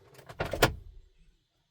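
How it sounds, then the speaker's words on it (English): Audi car door handle pulled once, a short close mechanical click and clunk of the latch, quiet and over within about a second. "I'm going to pull on the door handle."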